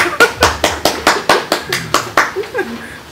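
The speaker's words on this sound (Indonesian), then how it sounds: "Mau tepuk tangan untuk Pak Lasito." Audience members at an Indonesian talk session clap for Pak Lasito, about a dozen loud, close, steady handclaps in a regular rhythm, trailing off as a voice begins at the end.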